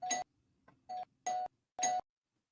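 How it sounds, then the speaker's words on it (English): An electronic doorbell chimes several times in short, separate bursts with brief silences between, clear and close in a quiet room. "thought I heard somebody ringing my bell"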